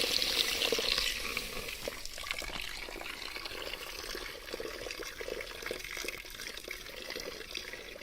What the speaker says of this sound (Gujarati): આમાં પાણી નાખવું જોઈએ